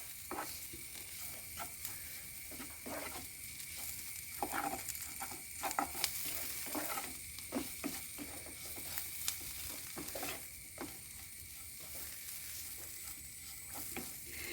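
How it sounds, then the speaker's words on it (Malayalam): Shallot chutney with finely chopped coriander leaves sautéing in a pan: a soft, steady sizzle broken by repeated scraping stirs of a spatula, fairly quiet and close, with no talking. "ചെറുതായി അരിഞ്ഞ മല്ലിയില ഇതിലേക്ക് ചേർത്ത് കൊടുക്കാം പച്ചമണം പോകുന്ന വരെ ഒന്ന് വഴറ്റിയെടുക്കാം"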